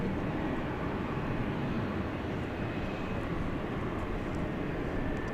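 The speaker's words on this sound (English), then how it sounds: "I know Barbara P. Sterling likes propeller planes, and I believe I hear one" Steady, broadband roar of a propeller plane taking off at DFW Airport at night, a continuous even rumble heard from a distance with no breaks.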